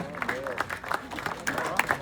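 Festival audience applauding a director coming on stage, a short burst of scattered, moderately distant clapping mixed with crowd murmur and cheers.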